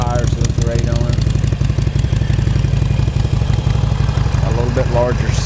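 A Harley-Davidson Sportster 883 with factory exhaust runs steadily close by, its deep, lumpy V-twin idle pulsing evenly throughout, with a voice speaking briefly over it.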